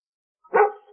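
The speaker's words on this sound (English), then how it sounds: "Good job! You found the dog." A single dog bark, short and fairly close, sounding once after a moment of silence in a children's farm-animal sound game.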